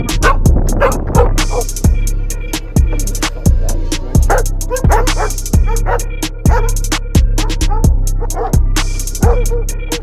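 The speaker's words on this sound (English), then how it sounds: "All the dogs, it's crazy." Several loose, unfenced dogs bark loudly and repeatedly near runners on a road around Athens, with sharp yips and bow-wows arriving in a steady, overlapping rhythm and no pause between them.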